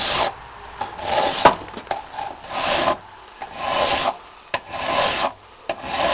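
A metal hand file scrapes rust off a metal piece in a series of close, rhythmic rasping strokes with short pauses between them and one sharp tap partway through. No one speaks.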